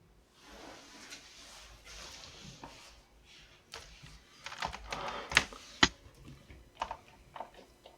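Computer keyboard typing in a Linux basics class, a quiet irregular patter of keystrokes with a few louder sharp key hits near the end, close and with no talking.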